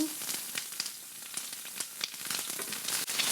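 Whole tomatoes and onions sizzle steadily in hot olive oil in a skillet over lowered heat, a continuous close crackle with scattered sharper pops.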